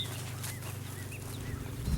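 Birds chirp and call outdoors in a quiet mountain setting far from people, with short whistled notes scattered over a low steady hum and some rooster-like clucking tones.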